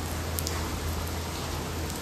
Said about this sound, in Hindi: क्या मस्त मूसलाधार बारिश आई है